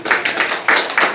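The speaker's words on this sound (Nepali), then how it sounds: "त्यो यहोशूको लागि प्रभुलाई ताली बजाएर" A church congregation clapping in praise during a sermon, a few loose bursts of hand claps in quick succession, close and fairly loud.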